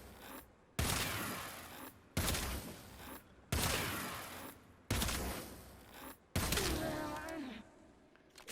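Rakta Ballistica crossbow firing in the Warframe video game: five heavy, evenly spaced shots, each a sharp thumping burst that decays slowly, followed by a rising whine after the last shot.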